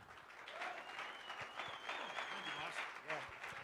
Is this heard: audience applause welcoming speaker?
yes